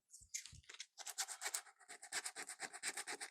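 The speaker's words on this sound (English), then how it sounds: "There are some high edges, so I'm just sanding those down." Rapid, rhythmic rasping strokes of sandpaper sanding down high edges of a vinyl repair on a leather antique chair seat, close up, in quick bursts with short pauses.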